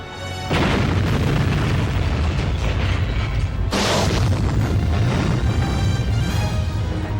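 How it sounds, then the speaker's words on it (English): Deep rumbling booms, loud and sustained, with a sharp new blast about halfway through that renews the roaring wash. "explosions"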